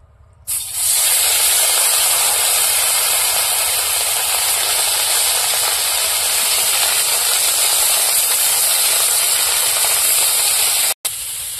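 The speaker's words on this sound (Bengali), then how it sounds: "মাছ ভাজার জন্য কড়াইতে তেল দিয়ে দেবো।" Small mourala fish frying in hot oil in a wok, cooked village-style: a loud, dense, steady hiss bursts in after a brief quiet start and continues almost unbroken for over ten seconds.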